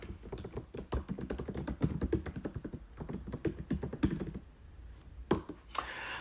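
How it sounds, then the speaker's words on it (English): Rapid tapping of keys on a computer keyboard, a quick irregular run of close, fairly quiet clicks that pauses briefly before a few final keystrokes. "I had to type something"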